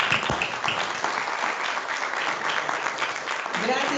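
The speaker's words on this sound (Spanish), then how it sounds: "Jorge Duchgari, al que también pido un aplauso" Audience applause at an agroecology seminar, a dense, steady round of clapping from a full room that holds for several seconds without a break.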